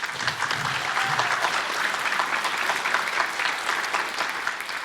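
An audience at a college climate action summit claps steadily, a dense and even round of applause that holds throughout and tapers slightly at the end.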